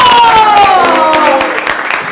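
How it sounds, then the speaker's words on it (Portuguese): Studio audience applauding at the first edition of the Cyber Conecta talk show: a steady, loud wash of clapping over a music bed, easing slightly toward the end. "Palmas para essa plateia linda que está participando dessa primeira edição do nosso programa Cyber Conecta."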